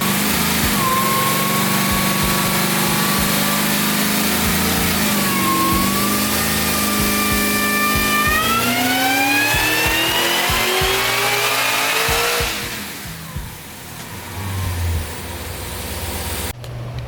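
A boosted Cadillac CTS-V making about 20 psi and 850 wheel horsepower on a dyno, its engine roaring loud and close as the pitch climbs steadily through a long pull before cutting off and winding down.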